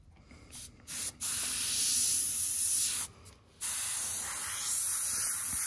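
An airbrush sprays paint in hissing bursts, a short burst, then two longer sustained sprays separated by brief pauses, close and steady.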